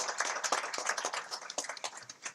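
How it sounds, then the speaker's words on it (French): An audience at the Numed Awards ceremony applauds the minister of education with a short burst of scattered, fairly sparse hand claps, moderately near. "je demande à ce qu'il soit applaudi pour le remercier"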